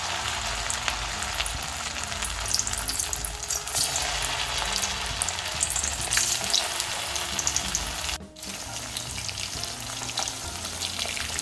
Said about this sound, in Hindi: ऑयल हमारा गर्म हो चुका है, गैस को हमने मीडियम फ्लेम में रखा है और अब इसको हम फ्राई करते हैं।